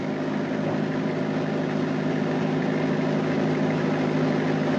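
Laboratory test engine held at 1600 RPM by governor adjustment, a loud, steady mechanical drone with constant rhythmic hum and no change in pitch, no talk.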